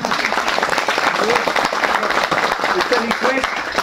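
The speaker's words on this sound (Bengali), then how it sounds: "শাহিরের জন্য জোরে হাততালি" An audience claps loudly for a film's maker at an event for the movie Pariah, a dense, continuous wash of applause with voices mixed in.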